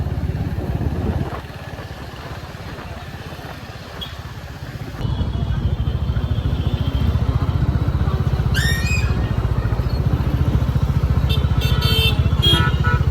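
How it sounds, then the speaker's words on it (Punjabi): A motorcycle engine idles and revs with a steady low rumble that grows louder partway through, with a few high squeaks and clatters near the end, as it is set on its stand and parked at a fair. "ਅਸੀਂ ਹੁਣ ਕਿਤੇ ਮੋਟਰਸਾਈਕਲ ਆਪਣਾ ਸਟੈਂਡ ਤੇ ਲਾਉਂਦੇ ਆ"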